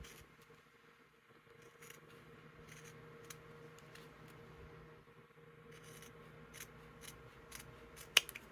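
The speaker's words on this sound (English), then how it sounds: "take my favorite fiskars and just trim this to the same size" Fiskars scissors snip through material to trim it to size, faint close cuts coming as scattered short snips over a quiet room, ending with one louder click.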